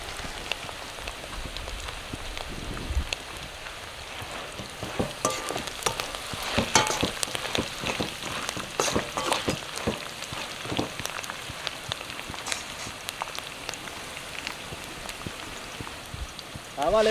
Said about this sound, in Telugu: ఇప్పుడైతే పల్లీలు వేసుకుందాం.